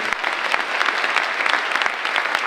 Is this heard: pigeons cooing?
no